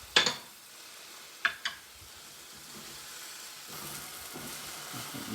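Butter, about two tablespoons, sizzles softly in a hot pan for a spinach, shrimp and garlic pasta, with a few sharp clinks early on and a steady low frying hiss throughout.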